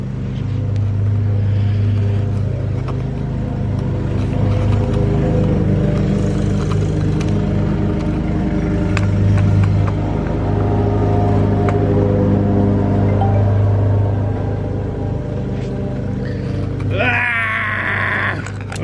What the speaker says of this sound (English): I don't know how I feel about running this weed eater wide open with just that little skinny nut